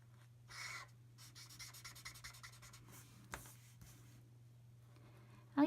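Markers stroking across paper in a faint, steady series of rubbing scratches, close up under a constant low hum, with a sharper scrape near the middle and no talking.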